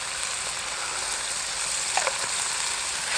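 Garlic and spice mix frying in a pan at a wild camp, a steady broadband sizzle with a couple of small pops and stirring scrapes near the end, no talk.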